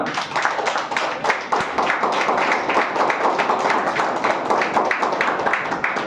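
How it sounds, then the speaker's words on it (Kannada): A church congregation claps loudly and continuously in quick, dense rhythm, a close and sustained burst of hand claps with no speech over it. "ಒಂದ್ಸತಿ ಜೋರಾಗಿ ಚಪ್ಪಾಳೆ ತಟ್ಟಣ"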